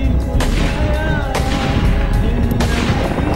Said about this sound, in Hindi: उसके बाद दूसरी औरत फायरिंग करना शुरू कर देती है।